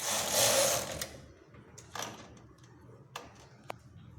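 A knitting machine carriage sweeps across a sweater sleeve in one loud, rushing pass, followed by quieter clicks and clacks of the machine at irregular intervals.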